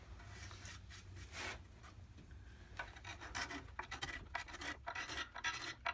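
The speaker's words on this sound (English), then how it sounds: "You can see that we make pretty good progress using this curved scraper." A curved steel scraper rasps across the inside of a hand-carved black walnut spoon bowl in a series of short, dry, close strokes, quiet and irregular in rhythm with no talking.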